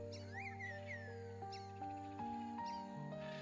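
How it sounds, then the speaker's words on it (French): Tropical birds in the Amazon rainforest chirp and whistle in a few quick calls near the start, sitting faintly over sustained, slowly shifting ambient music tones. "Vous entendez déjà au loin le tumulte des oiseaux tropicaux."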